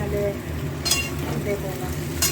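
Salt being fried with spices in a pan, a close steady sizzle with a couple of brief scraping stirs, and a faint voice in the background.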